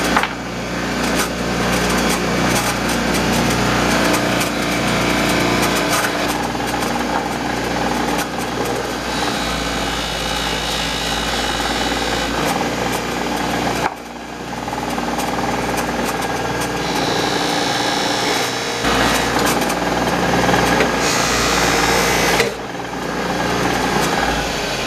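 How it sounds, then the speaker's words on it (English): Motorized buffing wheel loaded with extra fine compound runs steadily against a window part from a 1969 VW Bug, a continuous loud whirring drone with brief dips as pressure eases, no talking. "then I have a buffing wheel, and I was using extra fine buffing compound"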